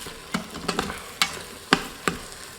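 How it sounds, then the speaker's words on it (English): Onions sauté in a pressure cooker pot under a low, steady sizzle. Several crisp scrapes and taps from a stirring utensil land at irregular intervals, close and fairly clear. "we're just going to let this keep on sauteing until the onions become softened"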